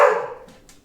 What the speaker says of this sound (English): Apologies for the dog, who cannot behave himself.